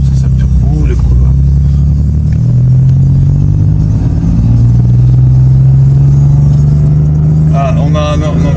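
A stage 3 BMW M3 F80 tuned past 700 hp idles and blips with a deep rumbling engine drone, then turbo whooshes and chirps rise near the end, loud and close, as people talk.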